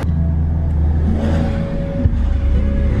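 Steady car engine hum and low road rumble from inside a moving car while driving around looking at Christmas lights, loud and continuous with slight revving swells, with no talking.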